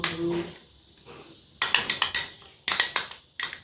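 Mustard paste is added to a cooking pot, heard as several close metallic clinks and scrapes of a spoon against the pot in two quick clusters after a brief low sound at the start.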